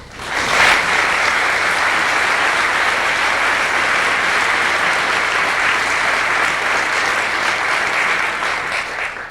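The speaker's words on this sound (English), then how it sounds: "So give yourselves another round of applause." Sustained, dense applause from a concert audience at a 1992 junior high all-region band performance in Indiana, loud and steady for about nine seconds before tapering slightly at the end.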